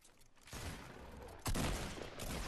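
Rapid bursts of gunfire in the battle game Fortnite, dense and loud, with a sharper, heavier volley partway through and shooting continuing to the end.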